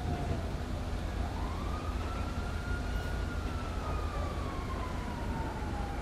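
Mumbai police car siren in the video game GTA 5, a loud continuous wail that sweeps slowly up and down, steady over a dense broadband rumble of traffic and engine noise.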